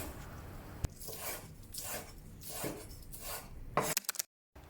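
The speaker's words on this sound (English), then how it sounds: "I also include scallions into the recipe and cut it into short strips." A knife cuts scallions into short strips on a board for Korean japchae, giving a rough series of rhythmic chopping and scraping strokes close by, ending abruptly in silence.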